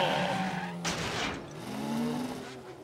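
Cartoon race car engines rev at the start line of a race on a track, with a sharp burst of tire skidding and screeching in the middle and engine whine continuing after it, no speech.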